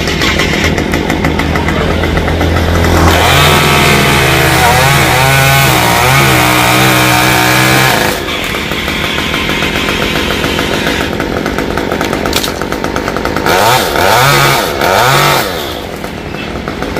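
Loud, close chainsaw cutting sections from high up in a tall Duong tree, the engine snarling continuously with repeated rising and falling revs as it bites into the wood.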